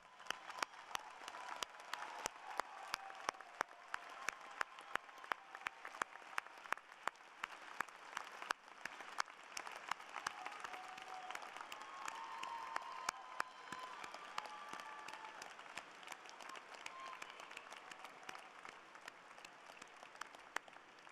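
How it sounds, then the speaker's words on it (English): A large graduating audience applauds at an engineering school commencement ceremony, a dense, sustained wash of clapping from many hands that keeps a steady level throughout without talk. "I ask the class of 2015 to rise and offer your family and friends a big round of applause"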